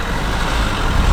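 A car drives past on the road, a steady loud rumbling engine noise that stays close for the whole moment, with no voices.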